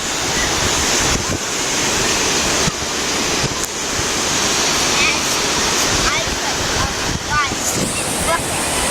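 Steady roar of ocean surf breaking along a beach, loud and continuous with wind buffeting the microphone throughout.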